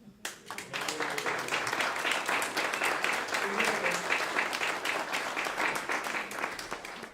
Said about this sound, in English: We send you virtual and physical applause and say thank you and congratulations for all you've done